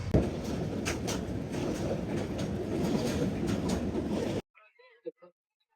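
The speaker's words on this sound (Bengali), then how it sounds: "আমার ট্রেন স্টেশন থেকে ছেড়ে গেল" A train pulls out of a station on a rail journey to Cox's Bazar, Bangladesh, giving a loud, steady rumble with rhythmic clatter for about four seconds. It cuts off abruptly, followed by a few faint, brief sounds.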